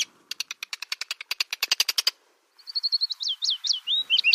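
Arctic terns calling over open tundra: a rapid run of sharp, repeated chattering calls, followed by a brief pause and then a series of harsher, rising and falling cries, close and clear with no talk.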